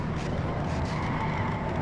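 Race car in NASCAR Racing 2003 skidding during a crash, a dense, loud grinding roar of tires and engine that holds steady for about two seconds.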